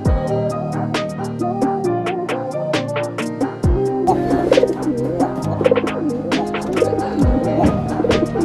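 A prized racing pigeon coos close by in low, repeated throaty rolls, with other birds chirping around it in a loft setting and a faint voice now and then.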